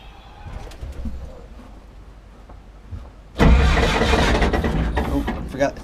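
A farm engine with a choke cranks and catches about halfway through, roaring up loud and close and running steadily after a quieter stretch of outdoor ambience with doves cooing.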